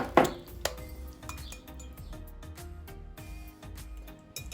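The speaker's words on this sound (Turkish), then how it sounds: "İyice karıştıralım." Cake batter for a savory vegetable breakfast cake is mixed in a bowl, with a spoon clinking and scraping against the bowl in a steady run of close, light knocks and rattles.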